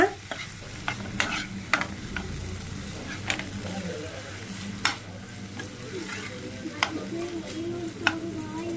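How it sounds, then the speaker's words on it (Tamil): Prawn gravy with coriander is stirred in a frying pan, sharp clicks and scrapes of the spoon against the pan recurring every second or so over a low continuous sizzle, close by with no speech. "அது கூட கொத்தமல்லியும் நான் சேர்த்துக்கிறேன் சேர்த்து ஒரு பெரட்டு பெரட்டி விட்டுருங்க"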